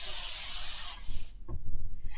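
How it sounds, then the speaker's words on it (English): Cooking spray hisses close for about a second, greasing a baking dish, cut off abruptly, followed by quiet light tapping and handling sounds. "With my cooking spray, I'm going to lightly grease the inside of my baking dish"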